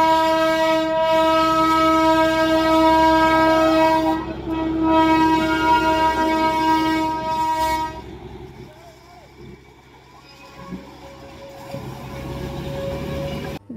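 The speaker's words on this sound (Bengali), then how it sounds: "ব্রিজটা থেকে শুধু নামলাম আর সাথে সাথে টয় ট্রেনটাও চলে আসলো" A toy train near Rongtong sounds a long, loud, tonal horn blast for several seconds, then rolls past with a lower rumble and clatter that fades somewhat toward the end, with faint voices in the background.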